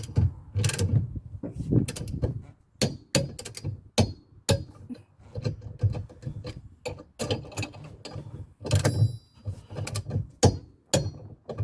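A ratchet clicks in repeated short bursts while tightening towbar bracket bolts on a Rover 45, sharp metallic ticks and knocks in an irregular rhythm, close and fairly quiet.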